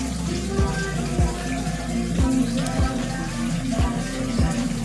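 Water flows steadily into the chamber of a homemade pond filtration system with a net as mechanical media, a continuous splashing rush with faint periodic thumps underneath.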